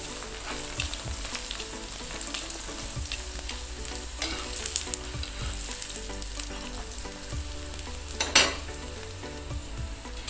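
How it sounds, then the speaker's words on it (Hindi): Aloo paratha frying in ghee on a pan, giving a steady, dense sizzle throughout with faint scraping and stirring and a brief louder crackle near the end. "इसके ऊपर अब हम लगाएंगे घी और इसको हम मज़ेदार सा गोल्डन सा कलर देंगे"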